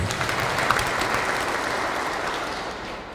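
A crowd clapping steadily at a thanksgiving service, dense and fairly loud, fading slightly toward the end.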